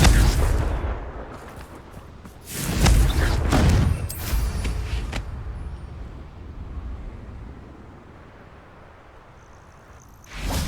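In Hogwarts Legacy, a Confringo fire-blast spell erupts in a loud, rumbling explosion, with a second blast hitting near the start and another near the end, fading to quiet between.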